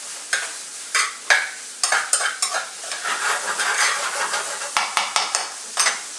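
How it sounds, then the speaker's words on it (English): Garlic and beans sautéing in a pan, a loud close sizzle broken by repeated scraping stirs and utensil taps against the pan, with no talk. "now that most of our ingredients are sauteing"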